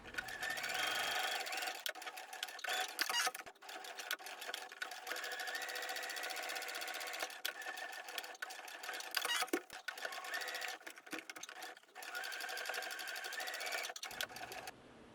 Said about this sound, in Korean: 이제 그려진 선에 맞추어 재봉해주세요.